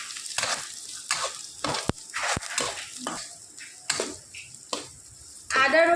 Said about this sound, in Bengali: আদা রসুন আর কাঁচা লঙ্কা আমি খুব সুন্দর করে এখানে নাড়াচাড়া করে নিয়েছি